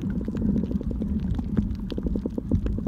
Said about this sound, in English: that's the sound of nothing but the ocean